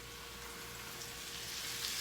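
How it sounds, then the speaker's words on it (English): Chicken pieces frying in hot oil give a soft, steady sizzle and crackle, faint and continuous, with no voices. "So it's frying up pretty well."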